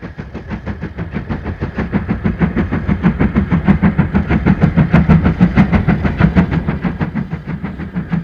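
A long, heavy steam-era train running close by, with a steady rhythmic clickety-clack of wheels and a continuous rumble that swells slightly toward the middle.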